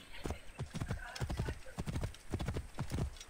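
A horse in the video game Assassin's Creed Origins clip-clops along at a steady trot, close and rhythmic, with rapid hoof strikes throughout and a faint whinny in the mix.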